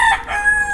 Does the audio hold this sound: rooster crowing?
yes